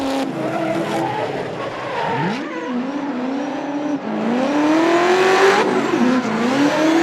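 Race cars in a drift battle skidding sideways with squealing tires and revving engines, loud and continuous throughout, the tire screech rising and sliding in pitch as the cars chase each other closely.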